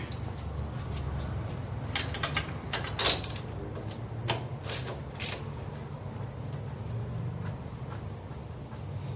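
A socket wrench ratchets while a spark plug comes out of a 1995 John Deere STX38 lawn tractor. Short bursts of clicking sit over a steady low hum, and there is no talking.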